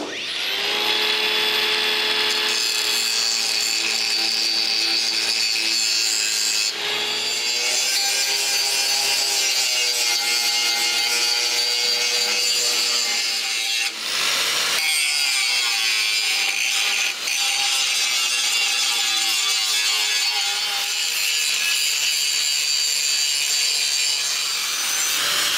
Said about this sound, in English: With the replacement metal welded in, he can grind it back flat,